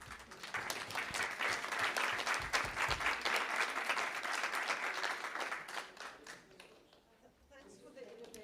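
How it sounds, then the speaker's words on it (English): Conference audience applause at a panel session, a dense wash of clapping that holds steady for several seconds, then thins and fades while a voice speaks near the end. "and a round of applause."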